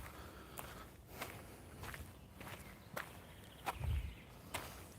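Footsteps walking through a village, a steady series of crisp, fairly close steps at an even pace over a quiet outdoor background.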